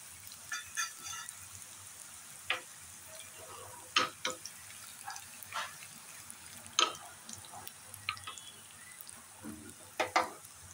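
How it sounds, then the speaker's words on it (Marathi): Hot tempering poured over French beans for a Maharashtrian pachadi, giving scattered short sizzles and crackles with a few sharper spits, fairly quiet and close, with no talk. "आता ही फोडणी आपण फरसबीवर घालून घेऊया"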